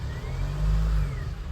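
A Mahindra Thar BS6, just restarted after a no-start fault was repaired by reflashing, idles close by with a steady low rumble that swells briefly in a mild rev before settling.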